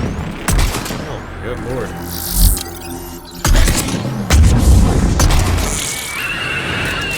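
Sniper rifle shots in Mass Effect 3 boom loudly over the game's combat noise, a few heavy reports spaced seconds apart. A voice exclaims briefly between them.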